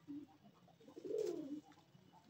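Pigeons at a loft give a soft, low cooing call that swells in the middle, with a brief coo before it, faint and close in a quiet setting.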